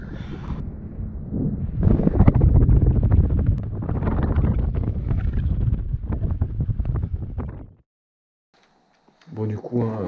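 Strong wind on a mountain top in the Pyrénées roars and buffets the microphone in loud, continuous gusts, then cuts off abruptly; a voice speaks briefly after.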